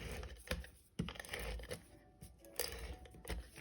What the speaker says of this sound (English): And take some more of my tape runner.